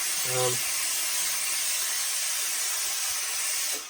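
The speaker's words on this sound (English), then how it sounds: "So we're just going to put a bit of steam in just to revigorate it." Steady, close hiss from a hat steamer working over a Borsalino fur felt hat, continuous throughout with a brief tonal voice-like sound near the start, then tailing off at the end.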